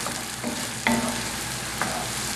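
Onions soften in oil over medium-high heat, giving a steady close sizzle with a few sharp clinks from a utensil touching the pan and no talking.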